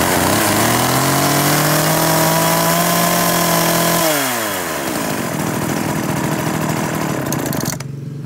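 A loud Japanese chainsaw engine runs close by. It holds a high revving whine, then drops in pitch into a rougher idle before cutting off abruptly.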